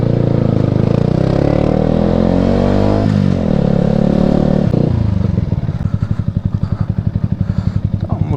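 A courier's motorcycle runs loud and close as it rides along, then slows and settles into a rough, pulsing idle as it pulls up to park.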